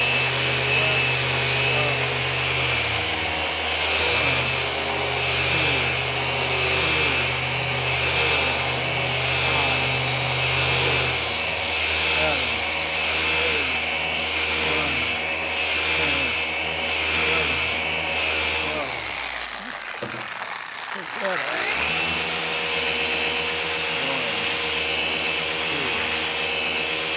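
A machine polisher buffs car paint during detailing, a continuous whirring drone that shifts pitch as pressure changes, briefly easing off near the end before resuming, with a voice talking over it.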